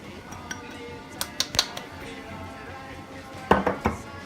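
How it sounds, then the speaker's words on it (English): Canned black beans and corn tipped into a cooking pot, giving a few sharp clinks and knocks of can and utensil against the pot, spaced irregularly over a quiet background. "So now we're going to add 1 can of black beans, and then 1 cup of corn"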